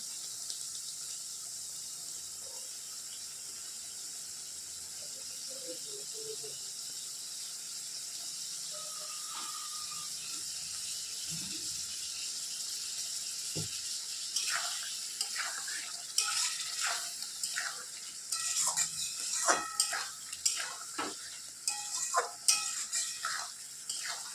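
Masala and added ingredients fry in oil in a home kitchen pan, a soft steady sizzle at first, then a spatula scrapes and stirs in quick, clattering strokes that grow louder and busier toward the end.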